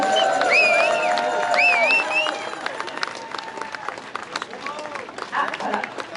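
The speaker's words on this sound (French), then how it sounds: "Oui, on les applaudit," Applause and scattered clapping from a crowd at an outdoor pro-Palestine protest in Montreal, mixed with cheering voices and whistle-like calls, steady at first then thinning out over about six seconds.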